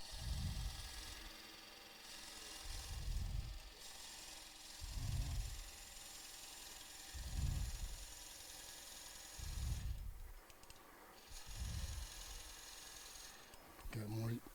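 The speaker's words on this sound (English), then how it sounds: "give the drill bit a break because it gets very hot" A grinding, rasping drill bites into a wooden peppermill in about six steady bursts, each a low churning roar that eases off between passes, with a brief scrape at the end.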